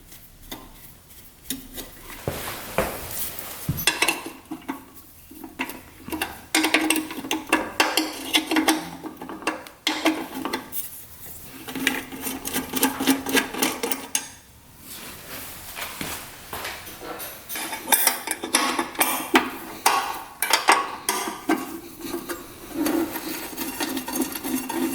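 An old hose clamp is worked off the softened gas line of a 1966 motorcycle, with close metallic scraping, rubbing and clicking of tools in irregular bursts and short pauses.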